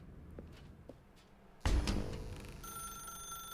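A telephone starts ringing in the video game The Stanley Parable, a sudden loud ring after a few faint footsteps, then a steady electronic tone sustained in a quiet room.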